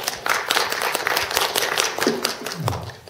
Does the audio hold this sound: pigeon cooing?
no